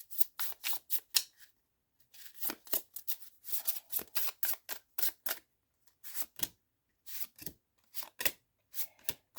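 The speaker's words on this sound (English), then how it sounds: "these are new tarot cards, so let's give it a really good shuffle" A new deck of tarot cards is shuffled close by in quick bursts of riffling and crisp rubbing, broken by short pauses, with no one speaking.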